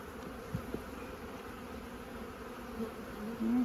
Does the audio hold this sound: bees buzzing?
yes